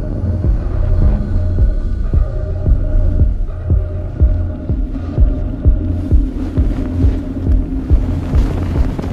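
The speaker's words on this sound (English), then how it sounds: "At nightfall, the spice harvesters land." Huge spice harvesters landing at nightfall on a desert world in the 2021 film Dune, a deep throbbing mechanical hum with slow heavy pulses and a low rumble, loud and close, no speech.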